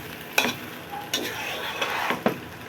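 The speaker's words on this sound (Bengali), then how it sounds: "আলুটা দিয়ে আমি এটাকে ভালো করে নাড়াচাড়া করে নিচ্ছি।" A spatula scrapes and stirs soaked rice and potatoes frying in a pan for biryani, giving a soft sizzle broken by several sharp scraping strokes.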